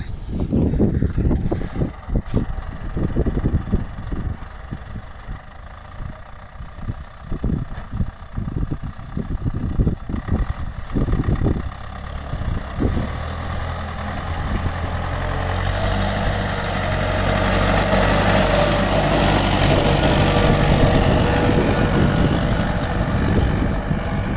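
Tractor engine pulling a Step AGM 2.5 disc harrow through heavy, sticky soil in a field while discing before wheat sowing, a steady low rumble that grows louder and fuller midway and holds continuously.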